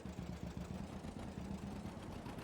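A John Deere two-cylinder tractor idling in the video game Farming Simulator 22, a faint, steady low chugging with an even pulsing rhythm, heard alone without talk.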